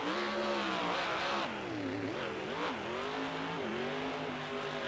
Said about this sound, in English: Spinning that truck around and cross it up here.